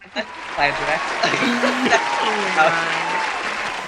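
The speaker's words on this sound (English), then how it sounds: "I'm gonna give you some applause for that" Studio audience applause on a talk show, moderately loud and continuous, with people talking and chuckling over the clapping.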